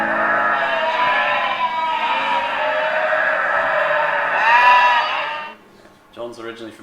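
Lambs bleat loudly and continuously at close range in a sustained wavering chorus of overlapping cries, which fades near the end as a few softer, separate sounds follow.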